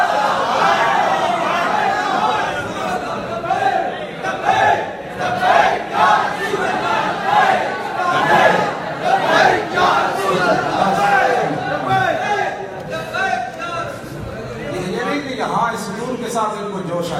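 A rally crowd chants slogans in surging, rhythmic bursts, many voices rising and falling together over a steady murmur of crowd noise.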